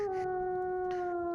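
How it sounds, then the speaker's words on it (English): A wolf howls in a long, steady, tonal wail that holds its pitch for over a second, loud and close, set in a dark wilderness where wild beasts roam. "I heard a wolf Howling."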